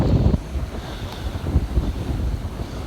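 Steady wind buffets the microphone aboard a sailboat running dead downwind in the Aegean between Lesbos and Chios, with a low rushing rumble of water and waves throughout.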